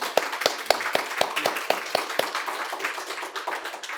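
A small audience at a jobs and skills summit claps. Distinct, evenly spaced claps stand out at first, then blend into a denser, softer patter of applause.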